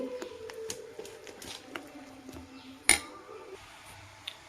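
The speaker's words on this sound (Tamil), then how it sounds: "மாவு நல்லா கலக்கி எடுத்து" Paniyaram batter with chopped onion and coriander is mixed in a bowl, with soft scraping and stirring, light clinks of a utensil against the bowl and one sharper knock partway through.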